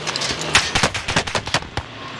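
Rapid bursts of video game gunshots crack out in an uneven rhythm, loud and close, with sharp separate reports and short gaps between them and no talking over them.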